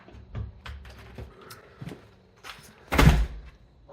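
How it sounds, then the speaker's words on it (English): A back door opening and closing on a morning commute: soft handling clunks and rustles lead up to one loud, close thump near the end, with no talking. "Going out the back door"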